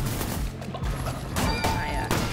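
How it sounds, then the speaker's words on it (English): Explosions in the video game Cult of the Lamb burst in quick succession, sharp booming hits layered over game music, with a few softer thuds between them. "Can we stop with like the super duper big explosions?"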